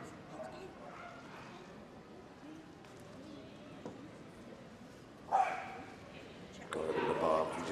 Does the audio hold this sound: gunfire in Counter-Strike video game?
no